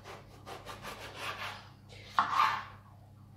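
Serrated knife sawing lengthwise through eggplants, a series of close rasping back-and-forth strokes followed by a sharper cut and a final scrape, with no voices.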